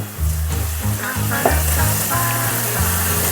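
Egg curry masala with chili powder and salt sizzling loudly in oil, a dense, close crackling fry with the occasional stir, no speech.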